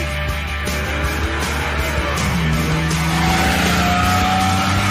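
A Triumph TR6 sports car drives along a road, its engine droning steadily and loudly throughout with shifting pitch as it accelerates, heard alone with no voices.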